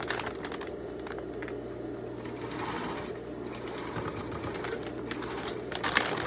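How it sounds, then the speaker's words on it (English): A sewing machine stitches a strap onto a bag made from a recycled pet food bag, its fast, steady mechanical clatter running nearby without pause, with a low motor hum underneath. "And I'm going to stitch along there."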